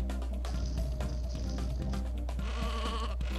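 Sheep in the video game Sheep Raider bleat repeatedly over a dense, continuous game soundtrack, several wavering cries overlapping from start to finish.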